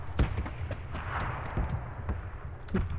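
Gunfire from a gun being tested in the PUBG video game, a series of sharp, thudding shots at irregular intervals over a low rumbling background, with no talk.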